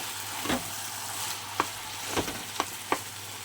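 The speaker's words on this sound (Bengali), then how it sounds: "চলো ভালো করে নাড়িয়ে দিই" Taro leaves fry in a pan under a steady low sizzle, with a handful of sharp spatula scrapes and taps at uneven intervals, close up and with no speech.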